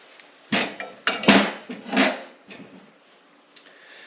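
Hammer tapping on the brake bolt of a LeTourneau Tournapull D scraper's electric motor, several close metallic knocks in an uneven cluster, then a single lighter tap after a pause.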